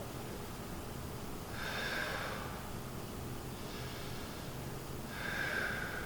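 Slow, deep belly breaths drawn in and let out during a gentle back-stretching exercise, soft and close, with three breathy swells spaced a couple of seconds apart in a quiet room.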